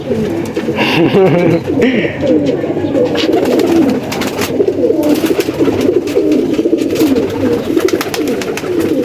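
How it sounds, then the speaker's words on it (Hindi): Pigeons cooing up close at a pigeon keeper's setup, one perched on a person's head, a steady layered burble of soft throaty coos running continuously through the whole stretch. "देखो मेरे सर पे कबूतर बैठ गया"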